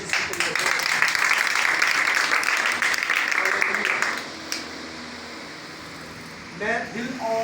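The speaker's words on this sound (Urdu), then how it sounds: "تالیاں اسی کے لیے دیں" Congregation at a church service applauding, a dense wash of clapping for about four seconds that then fades out, followed by quiet room tone and a voice starting to speak near the end.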